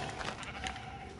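Sheep bleating in Minecraft, a short faint game bleat, somewhat noisy and brief.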